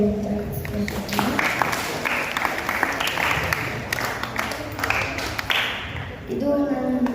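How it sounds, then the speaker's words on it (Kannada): Group of children and teachers at a Vatu (young Brahmin boys') training camp clapping together, a dense, steady round of applause lasting several seconds before fading out. "ಗುರುಗಳಿಗೂ ಒಂದು ಚಪ್ಪಾಳೆ ಬರಲಿ ಅಂತ ಹೇಳ್ತೀನಿ."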